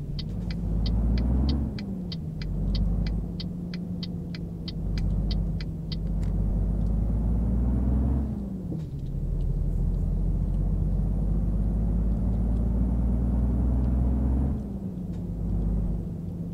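Truck engine drones steadily in Euro Truck Simulator 2 with the ProMods map, pulling a Krone Megaliner trailer on a snowy road, loud low rumble with gear-shift dips and a rapid series of ticking clicks early on.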